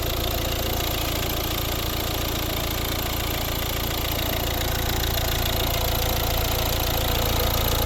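The 1.6 diesel engine of a 2012 Volvo S60 idles steadily throughout, even and unchanging, with a low rumble and slight knocking texture close by.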